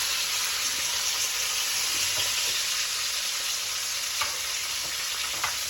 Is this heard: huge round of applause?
no